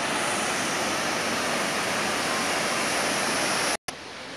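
Golling Waterfall in Austria pours down in a dense, unbroken roar of rushing water, loud and steady throughout with a split-second dropout near the end.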